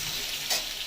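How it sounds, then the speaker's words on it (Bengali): Green plantain pieces frying gently in oil over a low flame, a continuous even hiss with a brief brighter swell midway; no voices. "এটা ভাজার সময় কিন্তু গ্যাসটা কম আঁচে রাখতে হবে।"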